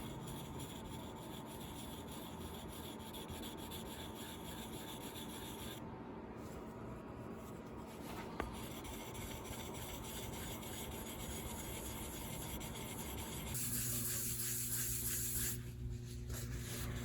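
Steady hand sanding with 600 grit silicon carbide abrasive, a continuous close rasping rub that keeps an even loudness and shifts in tone near the end, with no voices.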